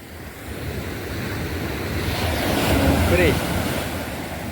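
Small sea waves break and wash along the shore at a beach in Malappuram, a rolling surge that swells toward the middle, mixed with gusty wind buffeting the microphone.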